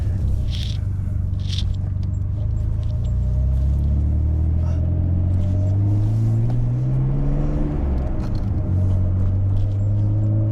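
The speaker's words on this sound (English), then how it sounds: "Let's go, driving the GTR." Nissan Skyline R32 GTR with five-speed manual gearbox rumbles from inside the cabin while driving, its engine note rising and falling through several revs in a steady, loud drone with no talk.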